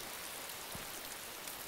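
Steady rain falling outdoors, a faint, even hiss of drops with no break and no voices.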